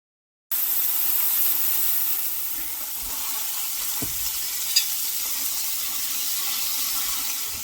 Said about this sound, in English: We're going to get our ground beef in there, get it cooking, and then we're going to add our 2 onions that are diced.